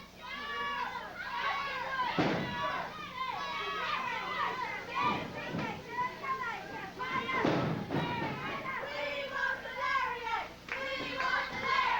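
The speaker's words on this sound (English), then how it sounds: "You can hear the crowd picking up a chant now." A wrestling crowd at a Georgia Championship Wrestling match, with Stan Hansen in the ring, roars steadily and starts building into a rhythmic chant, loud and dense throughout with bursts of cheering.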